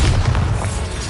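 A heavy, booming blast from the Bombarda explosion spell in the Hogwarts Legacy video game, a dense, rumbling low roar filling the whole short moment with no clear gaps.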